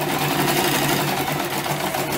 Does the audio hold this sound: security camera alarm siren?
no